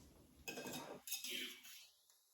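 Noodles tossed together with a chilli peanut sauce in a bowl, giving a couple of close, brief clattering and scraping bursts of utensils against the dish, with short pauses between them.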